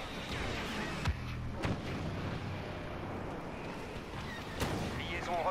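Heavy gunfire in the shooter game Star Wars Battlefront, a few sharp booming shots and bursts over a constant battle rumble, with a voice talking at moments.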